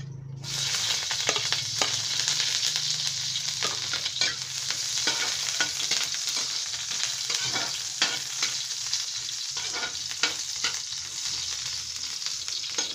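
Onions sizzle steadily in hot oil in a pan for a Filipino spicy chicken kaldereta, with frequent scraping stirs and soft clicks from the spatula breaking through the continuous frying hiss, close and fairly loud.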